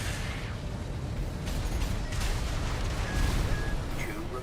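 Dense, continuous battle rumble of explosions and weapon fire in the mech combat game Armored Core VI, with a few sharper bursts standing out from the steady roar.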